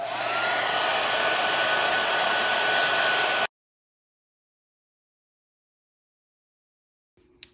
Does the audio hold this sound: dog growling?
no